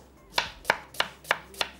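A knife chops through onion on a cutting board in five evenly spaced, crisp strikes, each a sharp close knock with a brief bright edge, heard alone with no talk.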